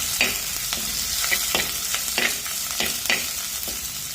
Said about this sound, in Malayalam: എല്ലാം കൂടെ ഇളക്കി കൊടുക്കാം. നന്നായി ഒന്ന് വഴന്ന് വരട്ടെ.